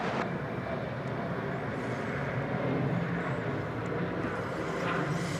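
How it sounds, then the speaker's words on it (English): A business jet takes off from an airport runway, producing a steady, broad roar heard from a distance with wind buffeting the microphone throughout. "Oh, BizJet just took off."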